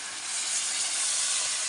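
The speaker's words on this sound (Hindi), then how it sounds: "तो इसमें हम डाल रहे हैं 5 बड़े गिलास पानी" Water is poured into a hot cooking pot of soup in a mountain village kitchen, raising a steady, loud, close hiss of steam that runs unbroken from start to finish.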